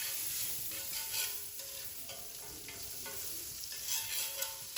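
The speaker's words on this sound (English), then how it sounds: "I'm gonna put a good amount of butter on my griddle" Butter sizzling on a griddle before pancake batter goes on: a soft, even, continuous crackle heard close up and fairly quiet, with no talking.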